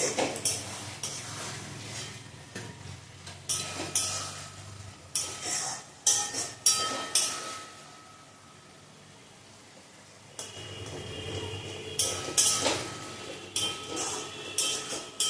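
Spice masala for chicken curry being stir-fried in a pan, with a utensil scraping and clinking against the metal in irregular bursts, pausing for a few seconds midway before resuming.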